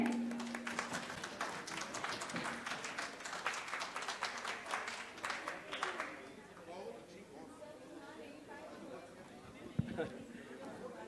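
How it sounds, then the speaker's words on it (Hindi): Audience applause at a certificate ceremony, a burst of scattered clapping and chatter for the first six seconds that fades into a quieter room with murmuring voices. "अरे मेरे लिए तालियां तो बजा दीजिए"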